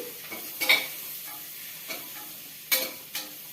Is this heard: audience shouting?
no